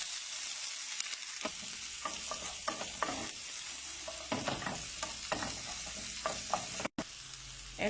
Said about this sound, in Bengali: এখন এটা হালকা বেরেস্তা করে নিতে হবে, 2 থেকে 3 মিনিট ফ্রাই করে নিতে হবে।